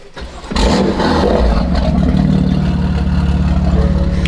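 Corvette with an aftermarket grille exhaust barks to life and revs, a loud, deep, sustained engine roar close by with slight rhythmic pulsing.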